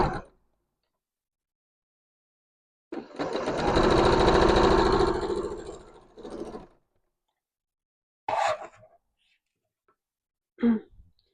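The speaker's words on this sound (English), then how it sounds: "We're sewing front and back pieces of the bodice at the side seams." A sewing machine stitches the side seams joining the front and back pieces of a blouse bodice, one steady whirring run of about four seconds, followed by a short second burst and a few faint handling noises.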